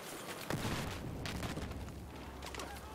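Claymore mines go off in Battlefield 4 as a dense, rumbling burst of blasts and debris that stays loud and noisy throughout, with several sharper impacts close together.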